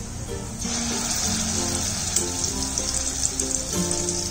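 Ground masala hits hot oil with golden-fried garlic, a loud, steady sizzle and crackle that carries close throughout with no one talking.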